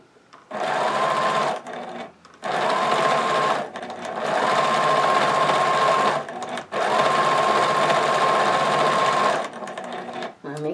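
A sewing machine stitching a stocking, running in four long, loud bursts separated by short pauses, with a steady whirring hum through each run.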